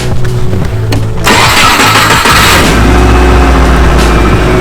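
A Subaru Forester engine with stock exhaust cranks and catches, then settles into a loud, steady idle close by.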